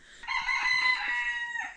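A rooster in a Konkan village crows once, a single clear call of under two seconds with a rising start and a falling tail, close by and alone against a quiet morning.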